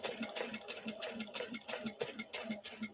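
A sewing machine running slowly while stitching a bucket bag, a steady rhythmic chatter of needle strokes at an even pace, close and clear with no speech.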